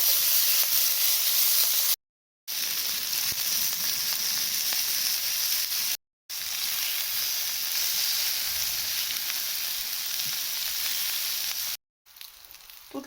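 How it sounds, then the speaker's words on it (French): Zucchini, peppers and tomatoes sauté in a hot pan with marinade for a rice and skewer dish, a loud, steady close sizzle broken by a few brief gaps, with no talk. "je vais venir aussi faire sauter quelques légumes"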